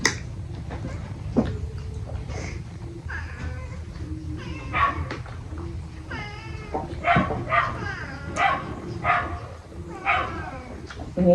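A dog barks and yips in short bursts amid cat meows and cries at a home mealtime, the animal calls scattered and fairly close over low background noise.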